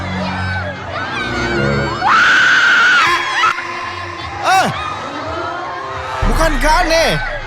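A crowd of spectators screams and whoops at a match, loud overlapping shrieks rising and falling in waves over several seconds, mixed with excited shouting voices.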